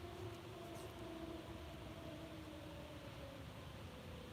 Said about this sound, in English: Yep, sounds like the ghost train's coming early tonight.